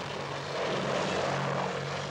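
A Hughes Apache attack helicopter gives off a loud, steady engine and rotor roar with a broad whooshing wash. The sound is continuous and close, with no voices.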